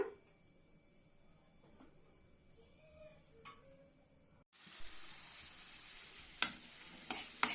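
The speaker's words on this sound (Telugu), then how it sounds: "పచ్చిమిర్చి ఆనియన్ ఆనియన్స్ అయితే వేసుకున్నాను ఇవైతే వేయించుకుంటున్నా" Onions and green chilies frying in a pan for a tomato and dried prawn curry, a quiet sizzle at first that turns into a loud, steady hiss of hot oil partway through, with a few sharp spatters near the end.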